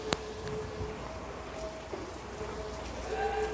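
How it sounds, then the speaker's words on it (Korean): Steady rain falls in Mokpo, a soft continuous hiss with faint drips and a low background hum, fairly quiet and without talk. "비가 오네요, 목포는 지금."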